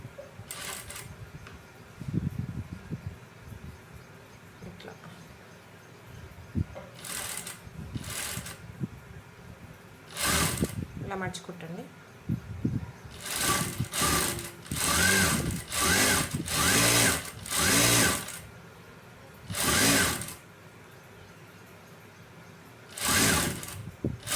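A sewing machine stitches piping onto a blouse joint in short, loud bursts of rapid whirring separated by brief pauses and handling noises, running close by with no speech.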